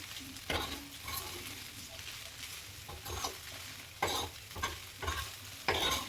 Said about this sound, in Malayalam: നമുക്ക് നന്നായിട്ട് ഒന്ന് മിക്സ് ചെയ്ത് കൊടുക്കാം.